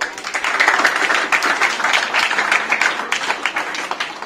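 Schoolchildren at a career guidance talk in their school clap for a classmate's correct answer, a dense, steady patter of many hands sustained for several seconds.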